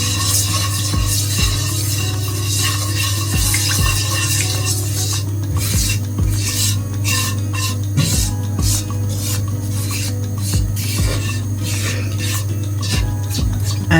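A spoon stirs Jamaican curry powder into a cooking pot, making repeated scraping and rubbing strokes over a steady low hum and a faint sizzle, with no talking.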